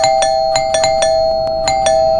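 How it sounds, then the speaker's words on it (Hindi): An electronic doorbell chimes over and over in quick, irregular presses, loud and close, each tone ringing briefly. "कौन पागलों की तरह घंटी बजा रहा है?"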